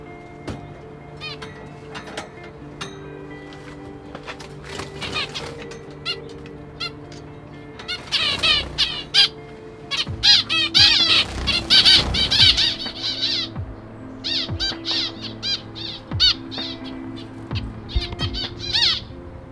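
Finches flap and flutter around a new aviary, with rapid wingbeats, light bumps and chirping calls that grow busier in the middle, plus some faint talk in the background.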